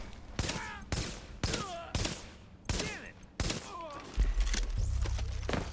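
Gunfire in The Division while fighting Cleaners: a rapid series of loud, evenly spaced shots with ringing tails, followed by a denser burst of firing and a heavy rumble near the end.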